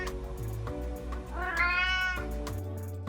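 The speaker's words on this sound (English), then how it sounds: "Cats make the sound." A cat meows once, a rising then falling cry close by, heard over a steady background hum.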